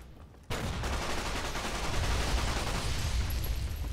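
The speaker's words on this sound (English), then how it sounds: "Machine gun." Sustained automatic machine gun fire from the video game Fallout New Vegas starts abruptly after a half-second lull and continues as a dense, loud, unbroken rattle.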